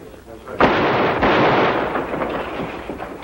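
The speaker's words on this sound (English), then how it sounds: "Two of you lob a couple of shells through that back window." Tear gas shells being fired through a back window in an old radio drama, heard as a sharp burst followed by a sustained loud, noisy rush and a second hit, with muffled activity trailing off.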